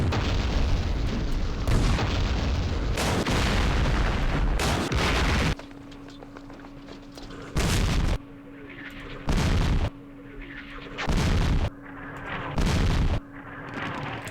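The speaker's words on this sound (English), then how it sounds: "Oh, that artillery smoked them all." Artillery fire and explosions in the wargame Campaign Series East Front: heavy booming blasts recur through the first five seconds, then several separate loud explosions burst at regular intervals over a low steady drone, with no talk.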